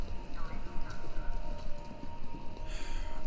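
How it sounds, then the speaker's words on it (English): Horse hooves galloping over a radio broadcast in the Kentucky Route Zero video game, a steady drumming clip-clop under a constant hissing, staticky bed of noise that swells slightly near the end. "Sounds like horses?"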